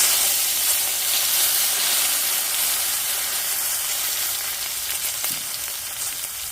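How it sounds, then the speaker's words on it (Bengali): Two dried red chillies and a bay leaf temper in hot oil for a rohu fish-head and bottle gourd dish. A loud, continuous hissing sizzle sits up close and eases slightly toward the end, with no speech. "আমার তেলে ফোড়ন দেওয়ার জন্য দুটো শুকনো লঙ্কা এবং তেজপাতা নিয়েছি"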